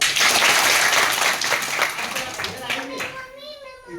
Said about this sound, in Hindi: वेरी गुड, ताली बजाइए एक बार